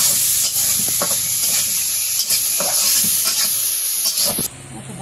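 Onions and green chillies sizzle in a kadai over a village cooking fire. A steady, bright hiss of frying runs throughout, broken by occasional stirring scrapes, close and loud, until the sizzle drops slightly near the end.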